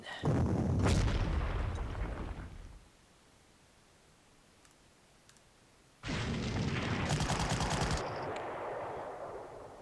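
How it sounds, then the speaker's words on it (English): Artillery bombardment in the WWII strategy game Panzer Corps, set south of Warsaw: loud dense bursts of booming fire and crackling shots for about three seconds, a quiet gap, then another sustained rattling barrage with clicking. "I'm gonna start bombarding and weakening this position."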